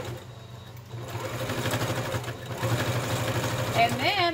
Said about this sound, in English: we're just going to stitch around the top using a regular straight stitch